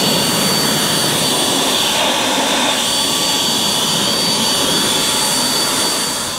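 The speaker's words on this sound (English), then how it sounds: "And then just take the blower and blow the top of it." A battery-powered leaf blower roars steadily and loudly, blowing water off the top of a battery lawn mower during winterizing, a constant airy whoosh with no talk.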